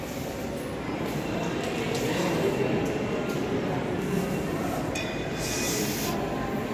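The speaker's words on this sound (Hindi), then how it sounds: "ये हम आ चुके हैं रेलवे स्टेशन के अंदर" Inside a railway station, a steady roar of train and platform ambience runs throughout, with rumbling wheels, faint hiss and distant squeal layered under someone talking.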